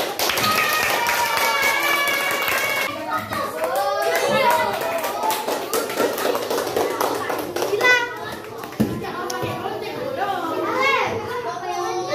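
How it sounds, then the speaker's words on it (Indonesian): Children clapping in a classroom after a lesson activity, a lively burst of applause mixed with children's chatter and a teacher's voice throughout. "Tepuk tangan."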